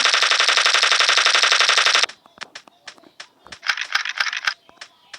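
Rapid automatic gunfire in a shooting video game, a loud continuous burst for about two seconds followed by scattered single shots and a shorter burst, with quieter clicks between.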